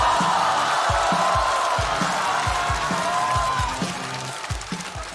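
A studio audience claps and cheers to welcome a guest onto a comedy competition stage, a steady wash of applause over a thumping rhythmic beat that fades out toward the end.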